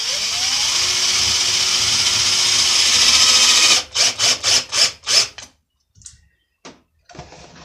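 A power drill driving star-bit screws into wet pine for a bowl project: a long steady whine, then several short bursts of drilling, a pause and a few brief final pulses.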